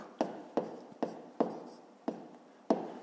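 A pen scratches on paper while a fifth-grade math problem is worked out, giving six short, crisp strokes at a fairly even pace, quiet and close, with no voices.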